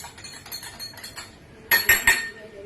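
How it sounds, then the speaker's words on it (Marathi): Ortho powder and a tablet being stirred together, a spoon scraping and clinking in a small container, soft rhythmic taps at first, then three sharper, louder metallic clinks close by. "हे मी आर्थोची पावडर मिक्स करतोय आणि ही गोळी मिक्स करतोय"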